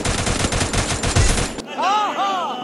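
Rapid automatic gunfire rattles loud and close in the Garena Free Fire video game, about a dozen shots in a fast burst, followed by electronic game effect tones.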